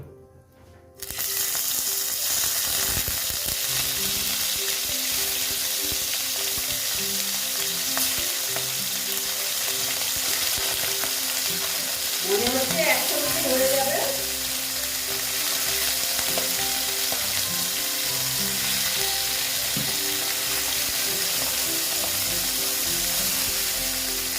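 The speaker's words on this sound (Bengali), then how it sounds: "এখন আমি মাছগুলো দিয়ে দেবো" Bata fish dropped into hot salted oil in a pan bursts into loud, continuous sizzling and frying, close up, with a brief splattering crackle partway through.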